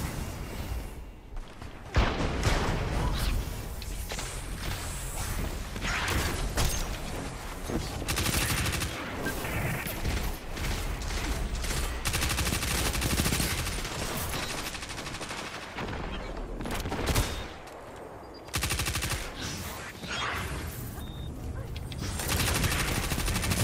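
Sustained heavy gunfire from an enemy player's weapon in a Destiny 2 Iron Banner match, a dense, loud, near-continuous barrage of rapid shots and blasts with brief lulls around the middle and near the end.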